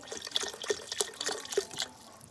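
Chicken bone broth pours from a container into a pot for salmon chowder, a steady liquid trickle with splashes and drips, close and moderately loud, with no talking.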